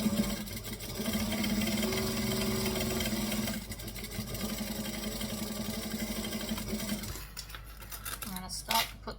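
Home sewing machine running a steady stitch for several seconds, pausing, then a shorter reverse back-stitch burst, with a brief clatter of handling at the end; close and moderately loud.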